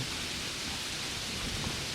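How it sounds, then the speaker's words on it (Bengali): Steady, dense rain hiss fills the scene evenly, with a faint low rumble underneath suggesting a storm; no voices. "ঝড় বৃষ্টির শব্দে ডুবে আছে চারবার"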